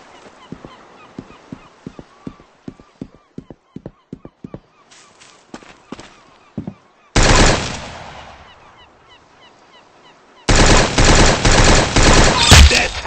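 Roblox gunfire rings out as a rapid series of sharp single shots, then sustained loud bursts of automatic fire with a pause between, close and dominant, with no voices.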